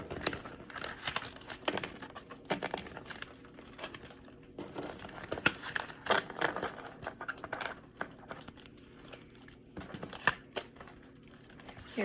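A neuro rehabilitation patient shuffles a deck of playing cards, giving irregular papery riffles, crinkles and soft taps close by, uneven and halting throughout.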